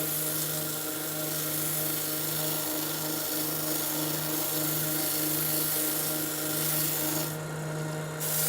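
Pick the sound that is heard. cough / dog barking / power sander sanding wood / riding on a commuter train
power sander sanding wood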